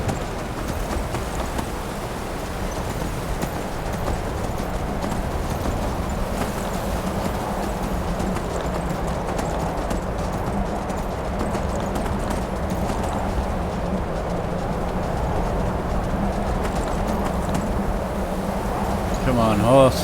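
A horse's hooves clip-clop in a steady, rapid rhythm while riding in the video game Skyrim, continuous under someone talking over the game audio.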